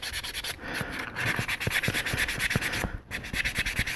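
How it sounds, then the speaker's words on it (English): A fingernail scrapes back and forth across the striated surface of a knife blade, giving close, rough raspy strokes with small repeated clicks as the nail catches the ridges, and a brief pause near the end. "you can hear your nails scraping across"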